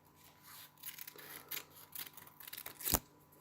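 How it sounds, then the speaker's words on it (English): Scissors trim paper for a bat craft, giving several quiet, close snips spread over a few seconds that end in one louder, sharper cut. "So I'll just carefully trim this."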